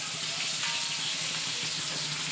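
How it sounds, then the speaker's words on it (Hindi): Fish pieces sizzle steadily in hot oil during a second batch of frying for fish biryani, a continuous close crackling hiss with no talk. "अभी मैंने दूसरी बार ये मछली तलने के लिए डाली हूँ"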